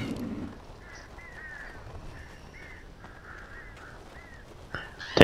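Crows caw repeatedly in the Alan Wake video game, a series of harsh, fairly faint calls spaced irregularly over a low ambient background, ending with a sudden louder burst.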